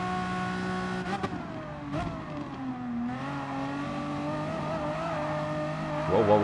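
A race car engine revs hard in the Gran Turismo Sport racing game, its pitch climbing and dipping through gear changes with brief tire squeals, loud and steady throughout.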